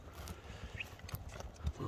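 Hooves of two young horses clip-clop in an irregular patter, close and fairly quiet, with faint background noise and no clear talk.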